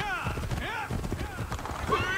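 Horse hooves patter in the video game Assassin's Creed 3 while a voice talks over the short stretch of footfalls, which are partly buried beneath the speech.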